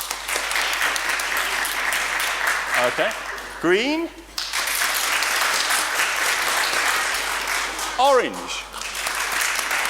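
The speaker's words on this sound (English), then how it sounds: "So just clap for the one you like" An audience claps in bursts to vote for colour choices at a fireworks service, broad sustained applause filling the room while a presenter calls out the colour names over it.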